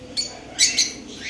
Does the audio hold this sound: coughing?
no